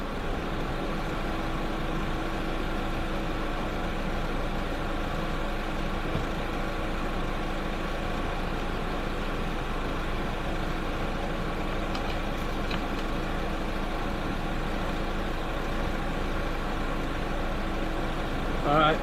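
Engine of a 2003 Chevy 2500 HD truck idling steadily while it is jump charged from another car, a low, faint, even hum with no rise or fall.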